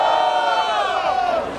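A loud crowd at a Brazilian freestyle rap battle semi-final roars and cheers in one sustained, close wave of shouting voices that fades slightly toward the end.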